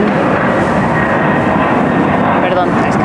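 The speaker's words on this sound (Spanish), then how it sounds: "perdón, es que pasan los aviones" Airplanes roar overhead near the Lago de Texcoco ecological park site in Mexico, a steady loud broadband rumble filling the whole stretch, with a voice talking over it.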